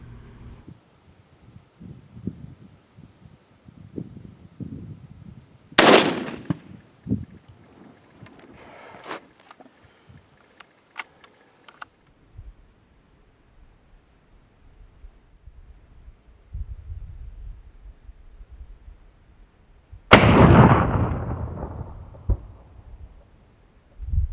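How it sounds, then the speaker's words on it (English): Two rifle shots, from a .22-250 or .204 Ruger fired at a 200-yard target, crack loudly and far apart, each with a short rumbling tail, over quiet outdoor background with faint rustling and wind. "Shooting at a distance of 200 yards, it's either a 22-250 or a 204 Ruger."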